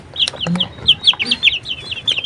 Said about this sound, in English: Beautiful color, chicken.